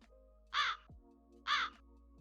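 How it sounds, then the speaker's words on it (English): A large raven outside a window gives two loud, harsh caws about a second apart against a quiet background hum. "You hear the sound of a bird outside, and if you look outside the nearest window, you see a rather large raven."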